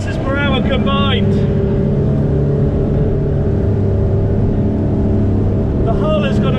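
Fairline F Line 33 motorboat running at speed of about 30 knots, a loud, steady engine and hull roar close by, with voices talking over it at the start and end.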